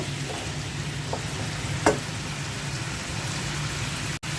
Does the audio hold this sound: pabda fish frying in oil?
yes